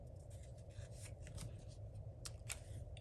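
Scissors snip through designer series paper during card making, a few faint, crisp cuts heard close up in a quiet room with no talking.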